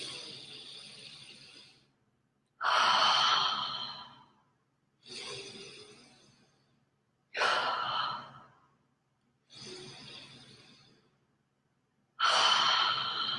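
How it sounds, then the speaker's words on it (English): Three deep breathwork reset breaths, each a long, steady inhale followed by a full, loud exhale through the mouth, close up and separated by short silences. "Let's take 3 reset breaths together,"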